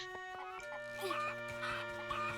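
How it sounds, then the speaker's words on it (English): Chickens cluck repeatedly in The Legend of Zelda: Echoes of Wisdom, with short bursty calls over a steady tonal game music backdrop, fairly close and continuous. "Capture the chickens. It's chicken mayhem."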